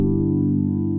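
One sustained chord from the Sky Keys "About Time" keys sound, a smooth, pad-like harmonic tone held evenly and alone for about a second.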